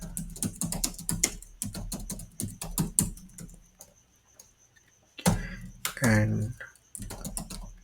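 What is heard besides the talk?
typing code on a computer keyboard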